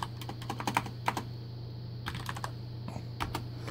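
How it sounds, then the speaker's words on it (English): Quick, light clicks of fingers typing on a computer keyboard come in short bursts with brief pauses, close and quiet over a low steady hum. "So I can type Benchmade up here"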